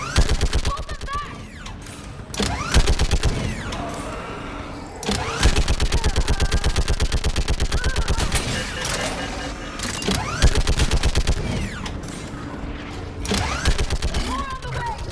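Sci-fi gunfire in Mass Effect 3, sustained automatic bursts with dense rapid-fire rattles broken by short pauses, loud and close.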